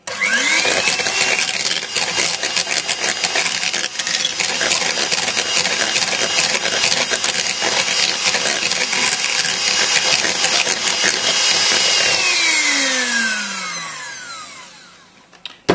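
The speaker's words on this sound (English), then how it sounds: "give it another whisk together" An electric hand whisk beats mayonnaise for a prawn cocktail. A steady, loud motorised whir runs for about twelve seconds, then winds down to a falling whine and stops.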